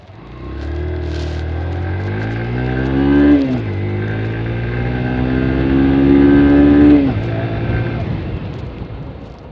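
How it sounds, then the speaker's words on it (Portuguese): A close Haojue Chopper Road 150 motorcycle engine revs up twice, its exhaust note rising in pitch before dropping back to a steady, throaty idle. "o som do escapamento é diferente, parece que você está pilotando uma outra moto mesmo"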